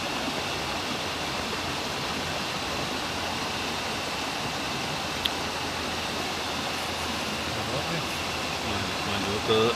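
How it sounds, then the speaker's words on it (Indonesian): Steady rushing roar of a small waterfall at a modest river fishing spot, broadband and continuous for the whole stretch with no pauses, close and fairly loud. "Curugnya nih"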